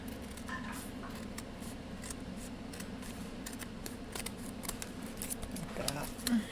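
Scissors snipping through paper for a collage, giving short crisp cuts in a quick irregular run, close and moderately loud, with faint rustling around them.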